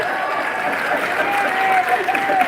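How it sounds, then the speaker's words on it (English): Audience applause at a women's expo in the Long Beach Convention Center, a steady wash of clapping held at an even level for a couple of seconds with crowd noise mixed in. "Give yourselves a round of applause."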